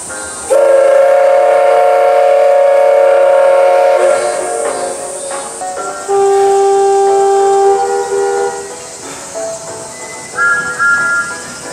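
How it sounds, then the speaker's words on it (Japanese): Steam locomotive whistles at the Oigawa Railway Thomas fair: a loud, sustained whistle opens the scene, followed by several shorter, overlapping whistles of differing pitch sounding nearby. "すごいね、いろんな汽笛が鳴ってるね。"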